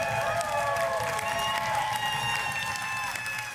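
Crowd applause and cheering for a team in a live Clash Royale Touchdown Tournament event, a dense continuous wash of clapping and shouts held at a steady, loud level throughout.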